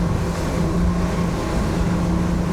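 Twin outboard engines on a 2025 Saxdor 320 GTO motorboat run hard around 4,000 RPM at about 33 knots, a dense steady roar mixed with rushing water, close and continuous without talk.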